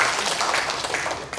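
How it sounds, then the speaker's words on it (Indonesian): Audience applause at a regional government forum, a brief burst of steady clapping from a crowd filling the room. "Mari tepuk tangan ya untuk FKUB."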